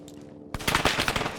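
In Arma 3, a rapid burst of automatic gunfire breaks out after a half-second quiet lead-in, giving loud, rattling repeated shots.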